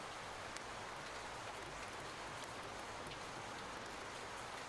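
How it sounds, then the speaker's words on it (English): Rain falls steadily outside an apartment as an even, dense hiss of drops on surfaces, constant and moderately soft, with no voices over it. "It's raining."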